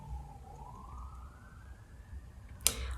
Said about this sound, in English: wait for the sirens to stop